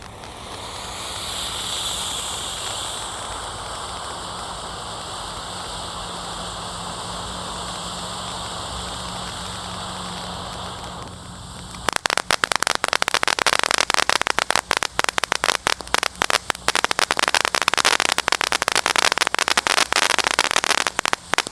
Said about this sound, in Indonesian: di sini ada Flower Power air mancur pratek bola warna-warni